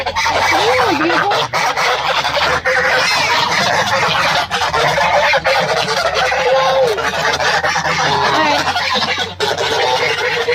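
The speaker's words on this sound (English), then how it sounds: "We watch quietly as these domesticated geese scare all my chickens out of their pen." Domesticated geese honk loudly and repeatedly among chickens in a backyard pen, a close, busy chorus of overlapping calls with clucking fowl mixed in.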